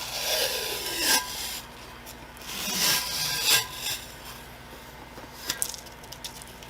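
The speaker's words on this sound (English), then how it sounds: "I'm going to immediately remove that tape while everything is still wet." Tape is peeled from a wet glitter-coated Valentine's tumbler in a few slow rubbing, rasping pulls, close and fairly quiet, followed by small scratchy handling noises.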